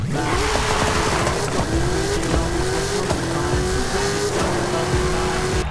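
A 1700-horsepower race car in Forza Horizon 5 roars at sustained high revs, the engine note climbing steadily with faint tire noise, loud and continuous with no voices over it.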